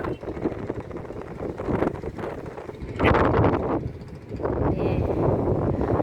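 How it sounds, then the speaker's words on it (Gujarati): Strong gusts rush past a third-floor vantage point as trees sway and rustle under a darkening sky, the roar rising and falling in broad swells with a sharp surge midway, steady and close throughout. "આપને પણ બહુ પવન લાગે છે"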